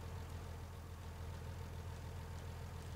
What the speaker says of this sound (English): This sounds like it's idling, despite the fact I'm going full pelt down the road